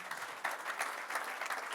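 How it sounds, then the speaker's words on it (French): Audience applause for the candidates at an evening show, a steady wash of clapping from a crowd that holds evenly for a short stretch with no voices over it. "on peut les applaudir évidemment"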